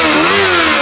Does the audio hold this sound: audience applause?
no